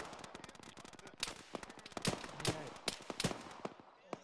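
Video game gunfire from an Arma session, a dense string of sharp shots and automatic bursts cracking at varying distances, some loud and close, with faint voices underneath.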